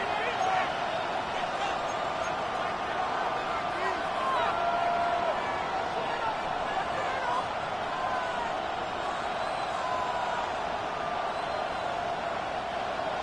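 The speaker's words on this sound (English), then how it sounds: "This crowd turning up the decibel level." A football stadium crowd on third and long swells into a steady, dense roar, loud and sustained throughout, with a commentator's voice over it.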